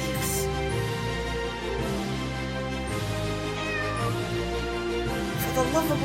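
A cat meows in drawn-out, sliding cries over a steady backdrop of music, part of a cute and funny cat segment at a county fair show.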